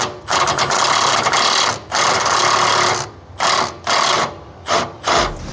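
An impact gun loosens a suspension nut from the top during an air ride to coilover swap, several loud rattling bursts of about half a second to a second each, separated by short pauses.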